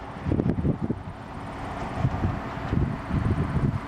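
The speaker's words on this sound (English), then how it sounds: "Hear the engines roaring." The presidential jet's engines rumble and roar at a distance as it starts its takeoff at Lansing, Michigan. The low, uneven noise swells and dips, mixed with gusty wind buffeting the microphone.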